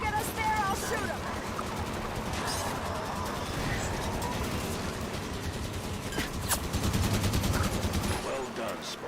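Dense rapid gunfire from the video game Halo 5: Guardians, steady automatic bursts with a few sharper shots near the end, mixed with game sound and voices talking over it.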